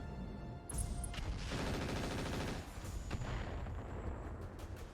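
Heavy artillery fire from a mech in the video game RogueTech: a dense, loud barrage of rapid booming blasts rolling together for several seconds, then tailing into scattered thuds and rumble.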